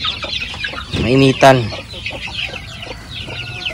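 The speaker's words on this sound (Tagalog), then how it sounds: "Yan, sisiyo natin." Native chickens, chicks kept with a mother hen, cluck and peep close by, with a couple of louder fowl calls in the middle while someone speaks briefly.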